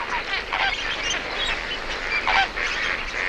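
A flock of greater flamingos gives goose-like honking and gabbling calls during a mating display. Many overlapping voices form a continuous, fairly loud chorus with a few louder honks standing out.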